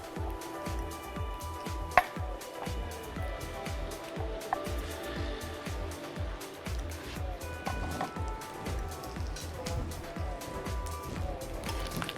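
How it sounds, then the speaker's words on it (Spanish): A knife chops two garlic cloves on a board in a home kitchen, the dense rapid taps running steadily and close throughout, with a sharper knock near the start and faint kitchen clatter beneath. "acabamos de picar por este lado la cebolla que ya estuvo y ahora los 2 dientecitos de ajo"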